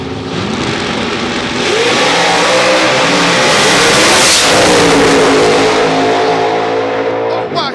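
Corvette drag racing at a strip event, its engine revving hard in a loud, sustained roar that swells and holds at full throttle for several seconds, with crowd noise faintly under it.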